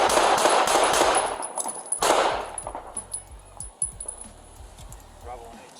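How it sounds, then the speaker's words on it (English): Police gunshots ring out in a fast volley of loud cracks in two bursts, followed by scattered metallic clinks and a few more sharp reports trailing off. "Bravo 1-8, shots fired."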